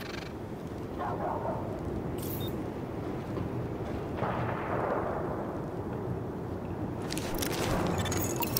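Gunfire rings out at weapon test targets in the video game The Division, with a few sharp bursts standing out over a steady, loud rumbling din.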